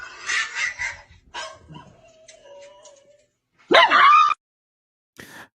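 A dog yips and whimpers in short bursts, with a loud sharp bark cluster near the end followed by a brief final yelp; voices talk at the start.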